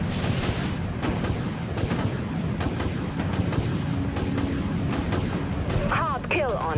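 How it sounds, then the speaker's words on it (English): Torpedo launch and explosions in the naval combat video game Dreadnought, a dense continuous rumble of booming blasts and gunfire with sharp chirping tones near the end, under a loud battle mix. "Torpedo launched."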